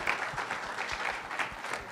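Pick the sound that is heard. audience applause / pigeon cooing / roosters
audience applause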